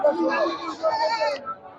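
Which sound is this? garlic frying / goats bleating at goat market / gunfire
goats bleating at goat market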